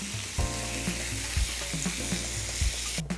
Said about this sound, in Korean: 표고버섯을 먼저 볶고요.